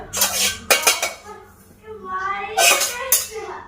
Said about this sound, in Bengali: এবার আমি একটা প্লেটে ঢেলে নেব সুজিটা